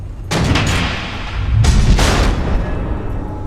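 Missile explosions in Batman: The Enemy Within hit as heavy, rumbling blasts, one near the start and a second, deeper pair midway, each followed by a rolling low-end decay.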